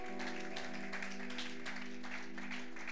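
Church congregation applauding after a closing prayer, steady broadband clapping throughout with a sustained organ or keyboard chord beneath it.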